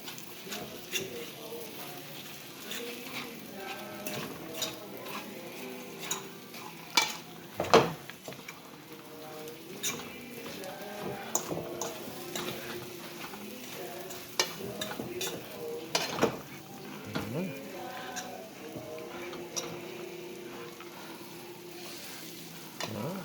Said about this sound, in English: And give it this final stir.